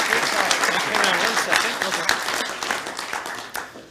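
A Rotary luncheon audience applauds steadily in a room, a thick wash of clapping that gradually thins out, with voices talking underneath.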